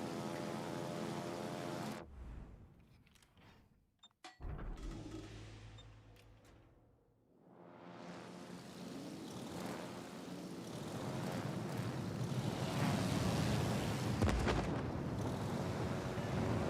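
Aircraft drone past in a World of Warships: Legends naval battle, a broad engine roar that dips out for a moment, returns, then swells steadily louder and fuller toward the end, with no talk over it.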